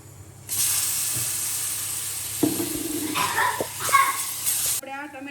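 Chopped onions tipped into hot oil with gram flour roasted light brown, for a Gujarati drumstick curry (saragva nu shak), giving a loud steady sizzle and hiss that swells with a few stirring scrapes, then cuts off abruptly near the end.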